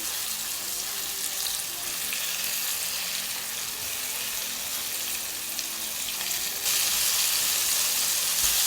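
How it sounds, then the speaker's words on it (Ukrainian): Steady, dense sizzling of flour-coated pork liver frying in a pan on high heat, a constant crackle that grows slightly louder near the end. "Обкачала печінку в борошні, і смажу на великому вогні поки що з однієї сторони."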